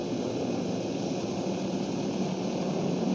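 A helicopter in the shooter game Warzone, set in Verdansk, gives off a steady, loud rotor-and-engine roar that fills the scene without letting up and with no voices over it.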